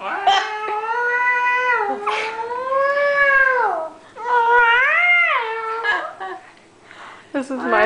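Cats face off nose to nose by a door, one letting out long, loud, drawn-out caterwauling yowls that rise and fall in pitch, several wails in a row with short gaps and a faint voice between.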